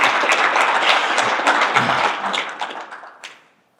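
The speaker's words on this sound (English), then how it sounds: "Give yourself a round of applause." Conference audience applauding a speaker at a 2024 commercial business conference, a dense burst of many hands clapping that holds steady, then thins and fades out over the final second to silence.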